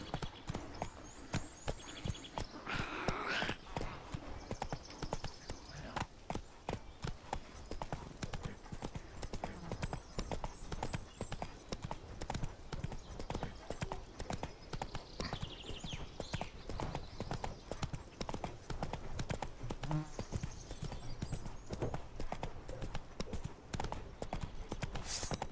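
Horse hooves clip-clop at a steady riding pace in The Witcher 3: Wild Hunt, with the quick, even beats close and loud for the whole ride.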